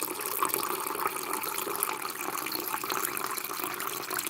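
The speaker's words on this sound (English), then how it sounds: "I've got my spring water I'm getting over here." Spring water pours steadily into a stock pot in a home kitchen, a continuous close splashing and filling sound with no talking.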